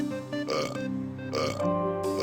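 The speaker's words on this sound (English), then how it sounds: "you can also make your avatar burp by clicking in the right stick" A video game avatar lets out a short series of exaggerated, cartoonish burps in the character editor, three voiced belches in a little over two seconds, close and clear with nothing else behind them.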